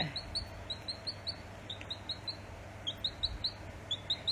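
High, thin peeping from small chicks, repeated in quick bursts of short chirps close by over a low steady hum.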